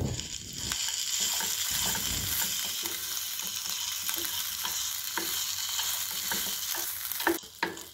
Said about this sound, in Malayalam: ഇനി ഇടയ്ക്കൊന്ന് തുറന്ന് നോക്കി ഇളക്കി കൊടുക്കാം.